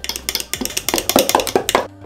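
A spoon clinks rapidly against a bowl while cocoa is stirred into waffle batter, a steady rhythmic tapping and scraping close up that stops abruptly at the end, with no talking.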